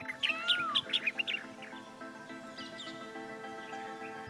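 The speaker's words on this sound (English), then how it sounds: "The blue-faced malkoa is a resident bird in these hills" A blue-faced malkoha in the hills around Hampi gives a quick series of bright chirping calls, fairly near, followed by fainter calls over a soft background hum.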